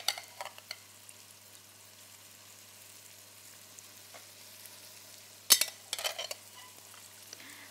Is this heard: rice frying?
yes